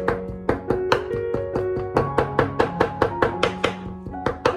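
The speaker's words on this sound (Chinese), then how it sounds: "把肉末全部给它剁碎，把肉末剁得越碎越好" Steady rhythmic knife chopping of minced pork on a cutting board, sharp repeated thuds close up at a brisk even pace, with no talk.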